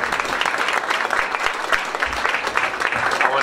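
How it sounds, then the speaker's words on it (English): Wedding guests applaud the bride's family and relatives, a loud, sustained roar of clapping from a sizeable crowd, with a few faint voices and shouts mixed in. "give them a round of applause"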